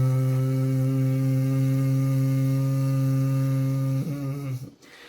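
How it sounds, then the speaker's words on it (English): A person makes a steady, bee-like humming breath during a lung breathing exercise, one sustained voiced drone held for about four seconds before it wavers and breaks off, close and fairly loud. "It's a humming sound like the bees."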